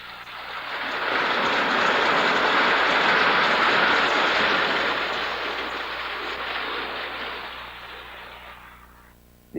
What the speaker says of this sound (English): the noise that they make, even just slamming down the rails, the clickety-clack and the rattle-trap sound